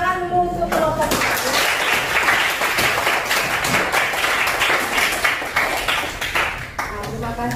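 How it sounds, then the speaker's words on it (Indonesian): Students in a classroom clap together, loud and close, with brisk rapid applause that swells and then thins out, while a teacher's voice briefly rises at the start and near the end. "Tepuk tangan dulu untuk kelompok 4."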